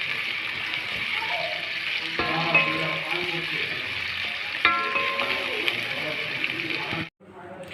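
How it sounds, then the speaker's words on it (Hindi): Sliced onions frying in a cup of hot oil, a steady bright sizzle carrying on throughout with a few clinks, before it cuts off abruptly near the end. "गर्म करने के बाद 5 अदद प्याज को स्लाइस काट लिया है। इसे ब्राउन कर लूँगी"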